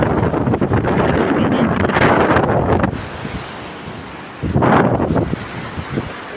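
Strong wind roars across the mic outdoors in gusty bursts, loud and close, easing into a quieter lull before another hard gust returns, with no talking.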